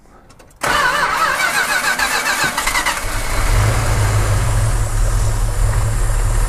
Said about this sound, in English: We'll go ahead and start it up so you can hear it run.